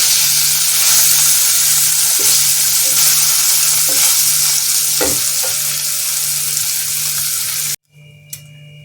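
Pieces of paneer fry slowly in hot oil with a dense, steady sizzle and a few faint stirring taps, then the sound cuts off abruptly near the end.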